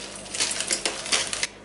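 Rice, 125 grams, poured into a pot of boiling water, a brief close rattle of grains hitting and pattering in quick uneven bursts, heard alone.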